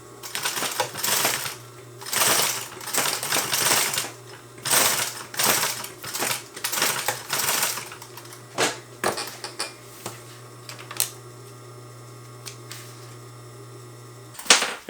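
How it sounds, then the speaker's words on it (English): A sewing machine stitches a seam on a fabric packing cube, running in several rapid bursts with short pauses, then quieter ticks and handling clicks near the end; close and clear, no talk. "sew over that seam to enclose the raw edge"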